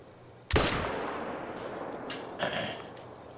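An AR15 rifle fires in the hunting game theHunter: Call of the Wild, one sharp, loud shot cracking out and ringing into a long echoing tail, followed by a softer second report, with no voices.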